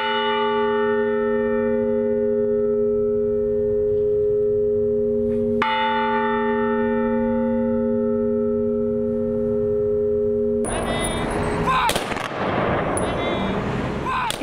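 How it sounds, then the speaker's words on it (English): Bell rung for Veterans Day on the Yellowstone County Courthouse lawn: loud, ringing bell strikes with long sustained tones that decay slowly, a second strike around the middle, then sharp bursts that sound like a gun salute near the end. "The disabled American veterans rang the bell 21 times and had a gun salute."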